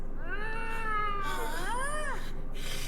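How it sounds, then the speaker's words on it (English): Loud, drawn-out cat meows in a radio drama, two wavering yowls in a row over a faint hiss of background noise. "Oh! That cat! Yeah! Oh, it sounds huge, doesn't it?"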